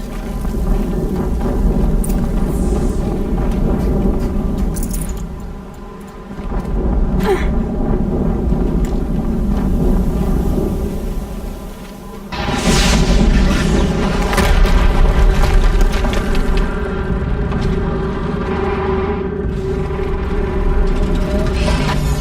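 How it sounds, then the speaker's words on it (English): Explosions in the video game Horizon Zero Dawn form a loud, sustained booming rumble that dips briefly twice and then surges back with heavy, crackling blasts, with no voices over it. "Another explosion."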